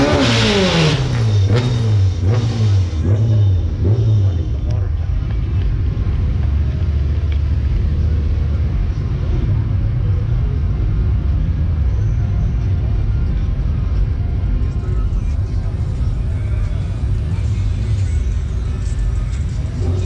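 A supercharged Nissan 350Z accelerates hard on nitrous at a track day, its engine revving up through rising pitch and settling into a loud, sustained roar heard from inside the car.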